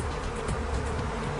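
Killer bees buzz in Arizona as a dense, continuous swarm hum, steady and fairly loud throughout with no voices.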